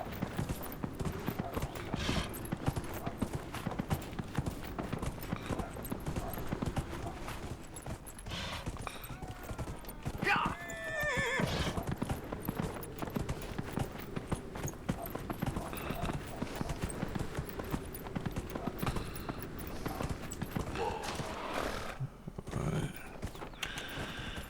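Video-game horse hooves clip-clop steadily at a gallop through the whole stretch, fairly quiet, with a brief whinny-like call midway and game ambience underneath.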